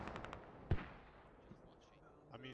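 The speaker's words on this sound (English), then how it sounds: "Got more enemy mortars going out. Plus, Russian mortars going out." Mortar fire in a Squad video game operation: a single sharp, fairly loud thump stands out over low background rumble, followed by fainter, more distant pops.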